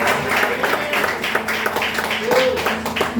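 A church congregation clapping along joyfully during a service, rhythmic hand claps under loud speech from a pastor throughout.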